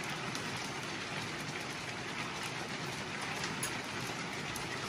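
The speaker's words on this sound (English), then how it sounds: "The hail's coming in the hole." Hail falls on a small cabin as a dense, steady patter of many tiny impacts, constant and fairly even throughout, with no voices.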